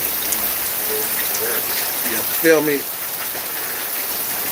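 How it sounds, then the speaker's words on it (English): Rain falls steadily outdoors as a constant hiss of drops on surfaces, with someone briefly speaking over it partway through. "right now, I'm in the rain"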